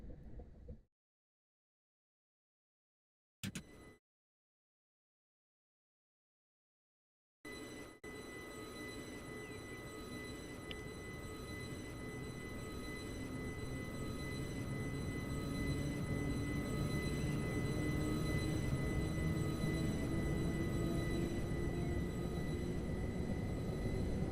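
A simulated train on the Chatham Main Line, propelled by a locomotive pushing from the rear, gives a few brief cut-off bursts before a steady, continuous rumble with a faint whine builds slowly and holds, close and alone.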